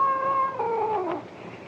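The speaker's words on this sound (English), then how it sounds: "They ain't skunks, it's cats." Cats meow and caterwaul in a long, wavering, drawn-out yowl that bends downward and then fades, close and fairly loud, with no talk over it.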